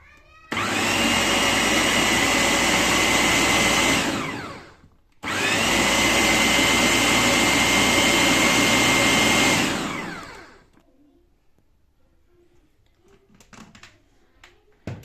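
An electric food chopper whirs loudly for about four seconds while pureeing tomatoes, pauses briefly, then runs again for five more before cutting off, followed by faint clinks.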